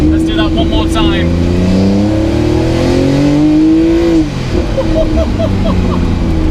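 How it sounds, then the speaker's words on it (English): A Roof sports car with a Porsche PDK gearbox downshifts and revs hard, its engine note climbing in rising sweeps, dropping sharply with a gear change, then building again, all heard close up from inside the car under a man's speech. "Let me just drop it down a couple of cogs."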